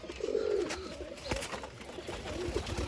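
A few soft, low coos from Blue Satin fancy pigeons, one longer call early and another near the end, over a faint background hiss.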